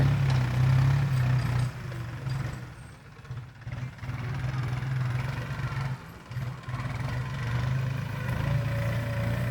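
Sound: New Holland 3.50 tractor engine plowing field

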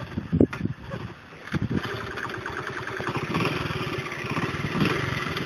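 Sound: 1972 Honda CT70 motorcycle engine running

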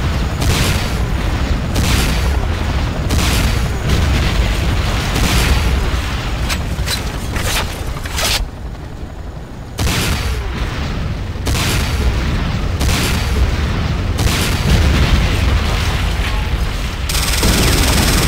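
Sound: missile explosions and gunfire in video game C&C Renegade

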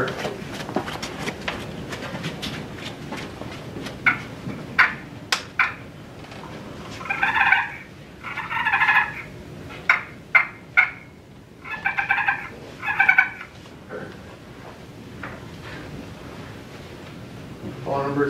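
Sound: turkey call imitating the cluck and purr at a calling competition

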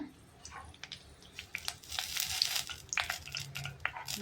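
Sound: mustard seeds and curry leaves sizzling in hot oil

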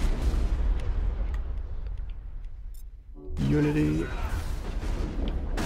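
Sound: shotgun fire in the video game Mass Effect

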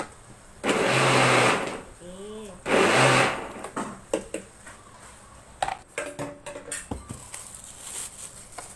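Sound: blender blending Pipo jelly drink

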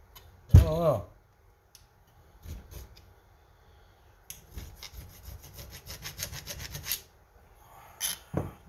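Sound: scratching scrap metal to identify aluminum

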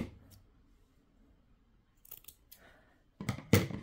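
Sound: scissors cutting a piece of yellow material

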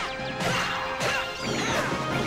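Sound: thrown object smashing into enemies in Dark Cloud 2 video game

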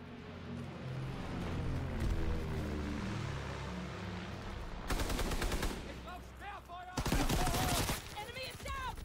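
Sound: gunfire in the video game Call of Duty: WWII

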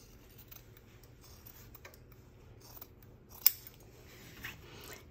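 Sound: scissors clipping fabric corners

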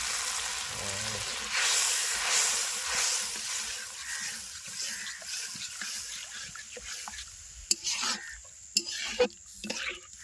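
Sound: mustard paste sizzling in hot oil while stirred

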